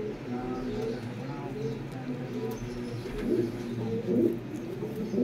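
A pigeon coos softly nearby in low, throaty, repeated calls over a quiet background murmur.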